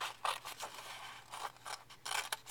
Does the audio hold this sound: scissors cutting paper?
yes